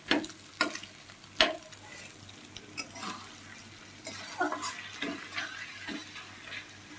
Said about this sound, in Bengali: ডিমটা এমনিই ভাজলাম, লবণ হলুদ কিছুই দিইনি।